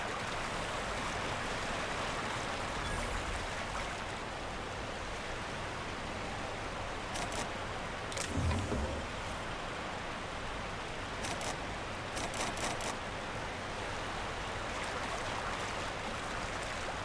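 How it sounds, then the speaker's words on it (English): Rushing water from a waterfall in the video game The Outer Worlds, a constant broad roar throughout with a few faint brief clicks and thumps. "See if anything's behind this waterfall."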